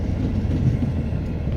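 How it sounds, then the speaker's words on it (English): A train rumbles steadily past during a snowy winter drive, a close, continuous clatter and roar of rail cars with no voices over it. "I love the sound of trains."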